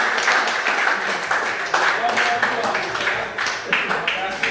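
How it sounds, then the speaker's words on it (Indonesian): A classroom group applauds after a presentation during a teacher training session, with dense, steady clapping close by and voices mixed faintly into it throughout. "Ya, kita berikan tepuk tangan."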